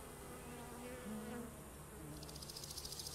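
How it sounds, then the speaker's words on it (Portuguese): A wasp buzzes steadily in the video game My Summer Car, a close, continuous insect drone that rises into a faster, pulsing whine near the end. "Barulho de Vespa."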